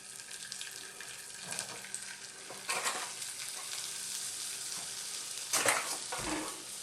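Flour cooking into a roux in a pan for moussaka, a soft steady sizzle with occasional stirring scrapes and brief louder clatters, close and continuous with no talking.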